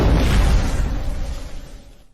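A bomb strapped to a body explodes in an Indian film scene: a loud, dense blast that rumbles heavily and fades away over about two seconds.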